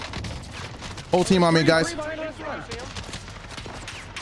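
Rapid bursts of gunfire crackle in a multiplayer shooter match, with quick repeated shots layered under a player calling out to teammates.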